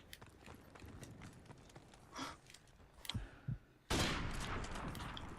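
Gunfire in the video game Modern Warfare Remastered comes as a rapid cluster of sharp shots. A louder sustained burst follows near the end of the exchange.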